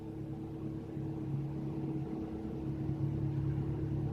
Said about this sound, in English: it's time that I put the windows down so you can actually experience what this car sounds like when you give it a little bit of a booting